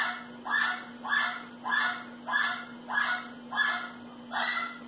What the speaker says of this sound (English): Ugh, stupid birds.